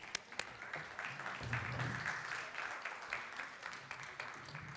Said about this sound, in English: please join me in giving a huge round of applause for the CEO of BAFTA, Jane Millichip.